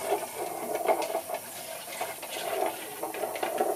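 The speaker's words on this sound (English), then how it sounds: "I just run water over the film" Tap water runs steadily over 16mm film inside a tilted Lomo developing tank, a continuous close splashing hiss with small fluctuations as the tank is turned.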